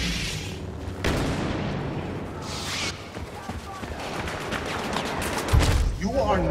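Blaster fire from the Star Wars Battlefront 2 video game, Outer Rim DLC, rattles in repeated bursts amid game effects and music, with a voice speaking over parts of it.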